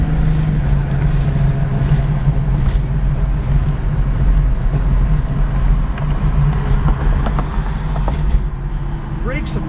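A 1970 Plymouth Cuda cruising at about 60 mph with steady engine and road rumble inside the cabin, tire and wind noise throughout, as the brakes are applied and the car slows.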